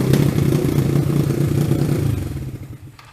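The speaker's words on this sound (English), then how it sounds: "Alright, so we got the idle fixed. So that's the idle right here. Without the choke." A motorcycle engine idles without the choke, a steady close rumbling putter with light mechanical clatter that fades toward the end.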